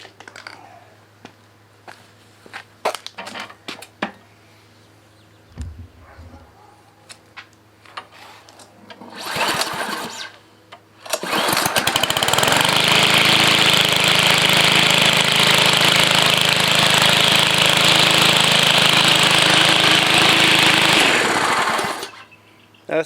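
A powerful large wheeled walk-behind string trimmer is cranked with a few scattered pulls and rattles, then its engine catches and roars loudly and steadily for about ten seconds before cutting off abruptly.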